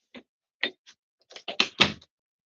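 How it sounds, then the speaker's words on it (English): A door closed at home, heard as a quick run of separate clicks, latch rattles and knocks, fairly close in an otherwise quiet room. "I'm going to close the door."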